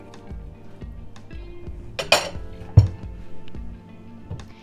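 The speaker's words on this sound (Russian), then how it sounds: "накроем сковороду крышкой и будем еще тушить до готовности картофеля" A few metallic clinks and a solid clatter of a lid set onto a frying pan of stewing potatoes, with soft kitchen clatter around it and no talking.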